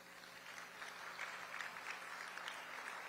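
Applause from the audience at the annual Houston Humanitarian Awards, a fairly faint but steady patter of many hands clapping that swells slightly after the first second and holds.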